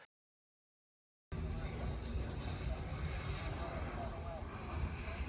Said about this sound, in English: a small aircraft made a gear-up landing and caught fire on the runway